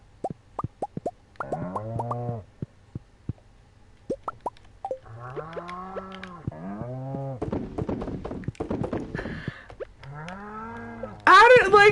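Cows in the farming game Stardew Valley give several short cartoonish moos mixed with quick plopping clicks and thunks, spaced across the clip, with a burst of brighter game noise at the end.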